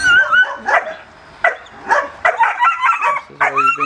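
A dog barks and yips in a series of sharp, uneven bursts, fairly close, with brief pauses and a whiny tone between barks.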